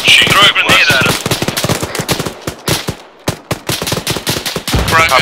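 Heavy ArmA 3 gunfire: rapid bursts of loud automatic fire and single shots crack back to back in a dense battle, with a brief lull midway and shouting voices at the start and end.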